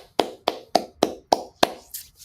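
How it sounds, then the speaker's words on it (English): Six sharp hand claps in an even, steady rhythm, close and fairly loud, followed by two softer trailing claps, with no talking. "Got to give a hand clap to the defense"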